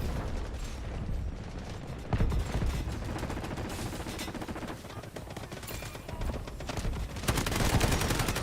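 Rapid, dense gunfire from a free first-person shooter game, with sustained automatic bursts and sharp single shots crackling almost continuously and hitting loud peaks near the start and end.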